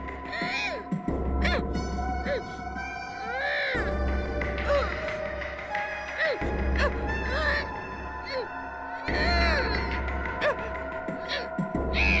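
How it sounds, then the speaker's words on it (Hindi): Recorded crying plays from a tape recorder in a room in a crime drama: wavering, sobbing wails rise and fall in repeated bursts over a constant low hum. "रोने की आवाज इस कमरे से आ रही है।"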